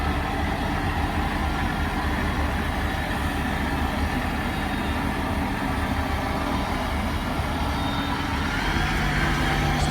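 A truck on standard tyres carrying a 12-ton axle load reverses slowly through a sandpit, a steady low engine rumble and drivetrain noise continuing throughout at moderate distance.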